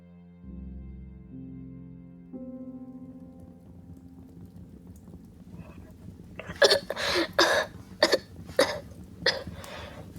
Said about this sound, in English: That cough of yours is getting worse, my lad.